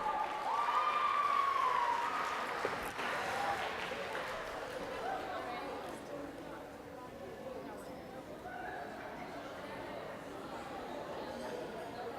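A banquet audience at a school sports awards night applauds for a girls' basketball team, with sustained mid-distance clapping and crowd murmur that fades into a lower hum of chatter.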